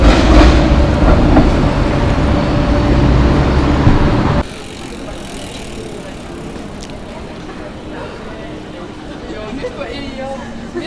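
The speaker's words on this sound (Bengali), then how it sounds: "এখানে যে লাল কালারের ট্রামটা দেখছেন এটা অনেক অনেক প্রাচীন ফিনল্যান্ডের ট্রাম" An old red tram passes on a street in Helsinki, Finland, with a loud, steady rolling rumble for about four seconds before it drops abruptly to quieter street ambience.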